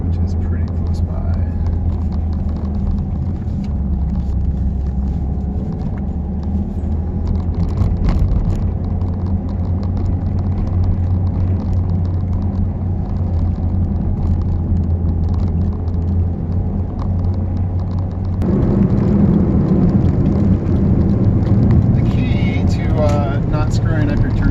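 FX GT car cruising on a freeway with a stick shift, heard from inside as a steady loud low engine and road rumble that swells slightly near the end.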